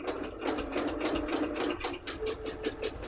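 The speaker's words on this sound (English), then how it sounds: "I'm just going to sew 2 of these triangles together" Sewing machine stitching two fabric quilt triangles together along a quarter-inch seam, a fast steady mechanical chatter of needle strokes, close and continuous with no talking.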